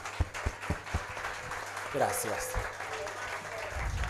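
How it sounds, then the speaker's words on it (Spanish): Scattered applause from a television show audience, a few sharp claps early, then softer clapping under a man's brief spoken thanks and light musical sounds. "y también le damos un aplauso."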